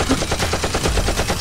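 Nerf toy gun firing, a rapid burst of rattling shots that runs steadily and close throughout, loud and without talk.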